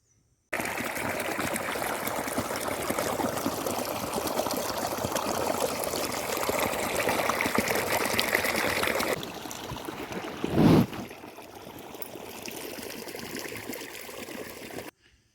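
Water runs through an irrigation channel in a sunny village field, a steady, close rushing trickle that drops to a softer flow partway through, with one brief splash or knock near the end.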